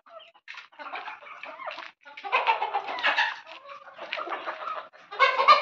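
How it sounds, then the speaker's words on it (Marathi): A flock of native village hens clucks steadily at close range, with overlapping chattering calls in uneven bursts and no talking. "ओरिजिनल गावरान कोंबडी"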